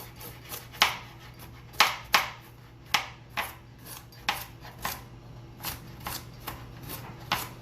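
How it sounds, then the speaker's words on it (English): A knife cuts parsnips into bite-size pieces in a kitchen, with about a dozen sharp, irregularly spaced chops against a board over a quiet hum, no talking. "Right now I'm just gonna cut up some of my parsnips."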